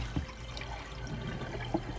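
Water splashes and trickles faintly as water and vinegar are poured off washed chicken, with a couple of small knocks against a container.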